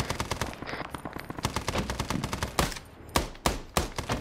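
Rapid gunfire from SOG on the Ground, with dense bursts of shots followed by several louder, sharper single cracks near the end, close and loud with no talk over it.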